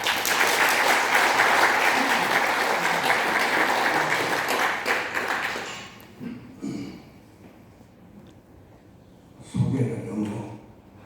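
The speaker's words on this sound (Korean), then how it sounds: "박수로 목사님을 모시겠습니다." Congregation at an early-morning breakfast worship service in a church mission hall claps to welcome a pastor, with dense applause for about six seconds that then stops, followed by someone speaking.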